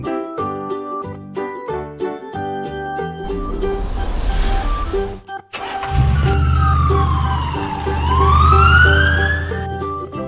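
A black police car's siren wails in rising and falling sweeps over a loud engine rumble, following bright cartoon music, with no talking.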